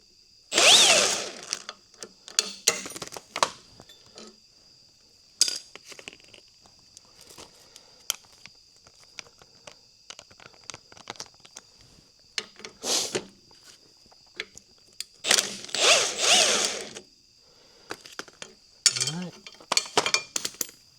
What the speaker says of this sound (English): even if the socket won't stay on the impact driver